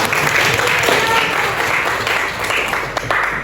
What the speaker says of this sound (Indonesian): beri aplaus untuk temannya